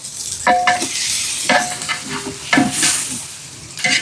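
Half a kilo of tomatoes goes into a pot of frying beef biryani masala with green chillies, giving a steady close sizzle broken by repeated scraping stir strokes.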